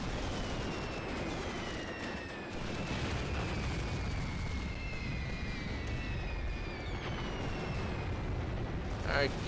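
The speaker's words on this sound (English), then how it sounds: "I've launched so much artillery at you, it's hard to keep track." Artillery shells bursting in the Graviteam: Mius Front war game, a continuous low rumble of distant blasts and booms with faint whistles overhead.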